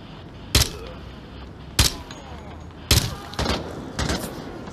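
Sharp gunshots ring out in the Onward VR shooter game, five separate cracks spread over a few seconds against a steady game background.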